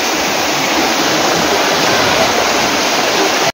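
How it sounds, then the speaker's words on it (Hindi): Salparni waterfall in Hazaribagh pouring over rocks, a loud, steady, close roar of rushing water that fills the whole stretch without a break. "देखिए मेरे पीछे ये पूरा फॉल।"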